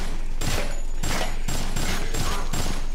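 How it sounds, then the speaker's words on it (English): Gunfire in the video game Dead Rising fires in rapid repeated bursts about every half second, loud and dense throughout with no pauses. "let's shoot those Mega Man dudes"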